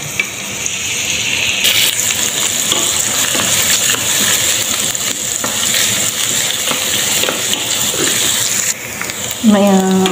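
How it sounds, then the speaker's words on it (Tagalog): Onions frying in hot oil and being stirred, a loud continuous hissing sizzle up close, with a scraping stir near the end and a spoken voice over it. "Mainit na yung ating mantika. Lagay na natin yung ating onion."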